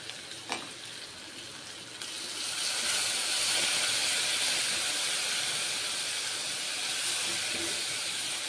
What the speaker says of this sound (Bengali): মশলা এখন দিচ্ছি কষে নিচ্ছি মশলা এবারে